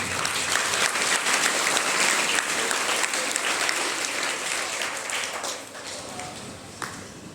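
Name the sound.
applause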